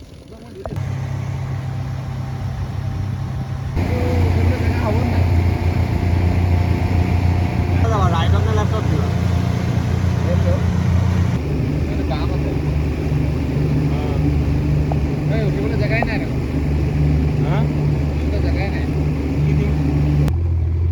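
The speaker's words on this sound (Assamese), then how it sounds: "আমাৰ স্পীড বোটখন ভাল হৈ গ'ল, আচলতে ইঞ্জিনটো বেছি গৰম হৈ গৈছিল, এতিয়া ঠাণ্ডা হোৱাৰ লগে লগে আকৌ কাম কৰিছে।" A speedboat engine running again after overheating, loud and close, a steady droning hum that rises to a fuller level and holds, with a person talking over it.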